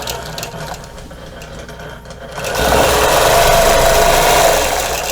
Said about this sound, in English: stitch in the ditch to get to the next corner